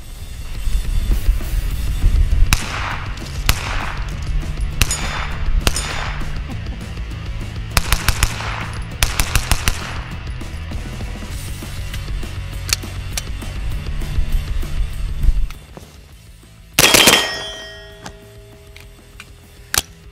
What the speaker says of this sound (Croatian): Ja ne mogu da prestanem da pucam s ovim.